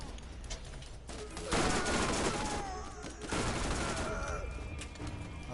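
A submachine gun rattles in sustained automatic bursts in the Borderlands 1 remaster, sharp rapid fire with brief pauses between volleys, alongside other in-game effects.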